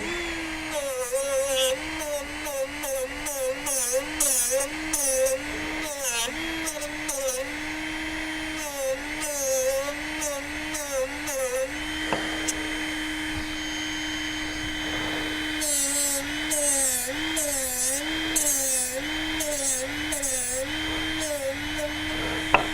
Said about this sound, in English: I'm going to use the Moto 2 with a sanding disc.